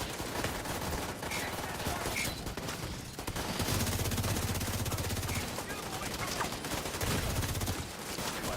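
Gunfire in a Ubisoft shooter video game: rapid machine-gun bursts and scattered shots crackle almost continuously, loud and close, with heavier volleys in the second half.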